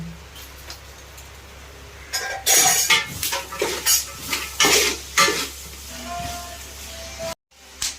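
Chopped onions and shallots are stirred in a pan for home-made fried rice, with a soft sizzle underneath, bursts of scraping from a metal spoon and clinks against the pan before the sound cuts out near the end.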